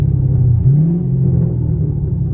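A catless 500 hp Camaro SS driving through the city gives a deep, steady low exhaust rumble that swells briefly as the engine revs up, loud and close.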